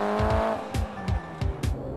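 A 2006 Mitsubishi Evo 9 rally car on a stage rally squeals its tires in repeated sharp bursts between engine revs and gear changes, close and loud, with several quick screeches in succession.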